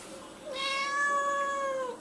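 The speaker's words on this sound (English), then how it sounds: "Oh, cat's meowing." A cat meows once in a long, drawn-out, fairly loud call close by, rising and then trailing off, with a quiet room behind it.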